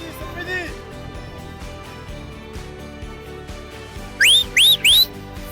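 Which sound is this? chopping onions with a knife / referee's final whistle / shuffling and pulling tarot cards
referee's final whistle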